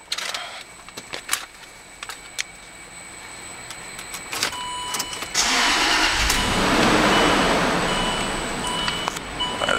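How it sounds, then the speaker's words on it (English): A gray 2008 Land Rover LR3 4WD engine cranks and starts near the listener after a few clicks and door sounds, then settles into a steady, loud idle that continues to the end. "Let me go ahead and sit down and get it started."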